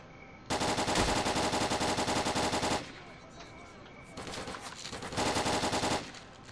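Two long bursts of rapid automatic gunfire in S.T.A.L.K.E.R. Call of Chernobyl, loud and dense, with a quieter stretch of scattered shots and faint background sound between them.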